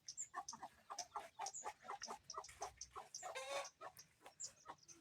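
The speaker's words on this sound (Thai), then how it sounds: "ไก่กำลังจะฟักไข่เนาะ" A hen sitting on eggs to hatch them clucks steadily in quick, repeated soft bursts, fairly faint, with no talking.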